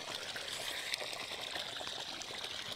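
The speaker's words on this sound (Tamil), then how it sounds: "அப்படி வர்ற தண்ணி அப்படி பிடிச்சி" Clean groundwater flows out and is caught by hand in a village setting, giving a steady, close trickling and splashing wash of water with no talk.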